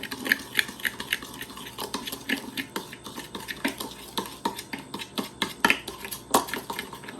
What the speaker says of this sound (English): Just gonna stir that all in together, so it's all combined.